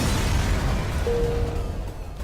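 A missile striking an enemy ship in FTL: Faster Than Light, a loud rumbling explosion with a sustained low roar that tapers slightly, plus a faint steady tone partway through.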